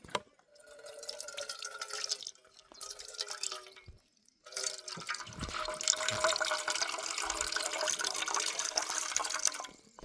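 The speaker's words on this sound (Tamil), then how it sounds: "தேங்காய் பால் எடுக்கிறோன்னே." Hands squeeze ready-made grated coconut to press out coconut milk for Sri Lankan sothi, with liquid dripping and trickling steadily at close range and a brief pause in the middle.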